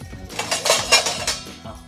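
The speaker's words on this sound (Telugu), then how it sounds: "సుష్మా గిన్నెలు సర్దు." Dishes and metal vessels are put away at home, with several loud clanks and clinks in an uneven rhythm. The sounds are close and come without speech.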